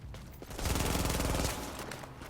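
A turret in the video game The Division fires a rapid automatic burst of dense, rattling shots lasting about a second, fairly loud against quieter game ambience.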